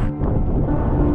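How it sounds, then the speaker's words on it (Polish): Strong wind on a cloudy mountain ridge in the Greater Fatra, a loud steady rumbling roar buffeting close against the microphone with no talk. "I do tego silny wiatr."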